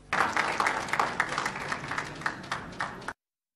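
Dense applause from an assembled crowd, tied to the DRC winning a UN Security Council seat by a landslide, with rapid overlapping claps at steady strength for about three seconds before stopping abruptly.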